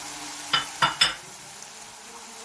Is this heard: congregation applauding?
no